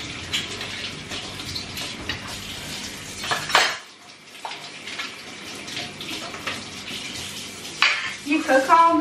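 Dishes and teapots being washed by hand at a kitchen sink, with running tap water and clinking pots and cutlery close by, briefly pausing midway before the splashing and rattling resume.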